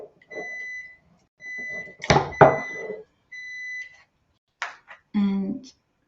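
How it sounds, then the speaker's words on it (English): Microwave oven heating honey: several short electronic beep tones and a faint buzzing hum, stopping and starting, heard close in a kitchen while a person talks between them. "So I think I'm going to have to microwave it."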